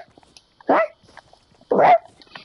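A small dog gives two short, sharp barks close by, separated by about a second of near silence with faint background sounds.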